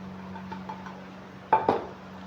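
Spices stirred into yogurt in a bowl for a tinda curry, heard as a few light spoon clinks and taps against the bowl, two sharper knocks near the end, over a low steady hum.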